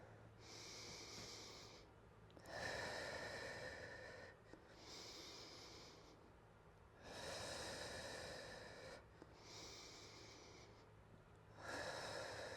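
Deep, slow breathing in the Ashtanga yoga warrior 2 pose, with long airy inhales and exhales alternating steadily over several cycles. The breaths are close and loud, and no one talks.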